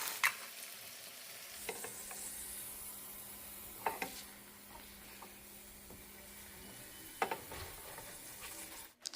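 Two large eggs frying in a pan, a soft steady sizzle and hiss with a few scattered clicks and scrapes of utensils, fairly quiet and close, no talking.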